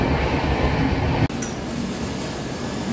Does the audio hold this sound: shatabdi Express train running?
yes